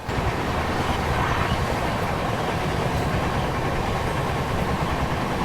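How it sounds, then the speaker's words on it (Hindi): A train passes on the Raigarh section of an Indian railway line, heard as a loud, continuous broadband rumble of wheels and cars close by. "ये पता नहीं कौन सी ट्रेन मिस हुई, मतलब बिल्कुल अपेक्षा नहीं की थी कि ट्रेन यहाँ से क्रॉस होगी"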